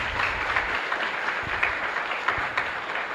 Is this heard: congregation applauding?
yes